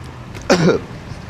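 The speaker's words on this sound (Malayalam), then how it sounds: "ചുമ" A single short, throaty cough close by, standing alone against a quiet background.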